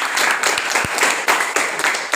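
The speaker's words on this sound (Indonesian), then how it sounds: "tepuk tangan untuk si Luis." Classroom applause, a steady wash of many hands clapping at close range for the whole stretch, loud and even with no talk over it.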